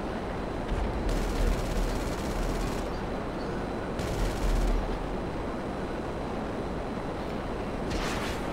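Machine gun on a fighter jet firing flaming bullets in GTA, heard as three harsh, rattling volleys separated by pauses over a constant roaring engine drone, with no talking.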